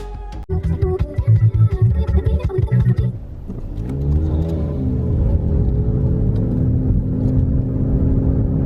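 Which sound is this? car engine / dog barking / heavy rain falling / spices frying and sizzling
car engine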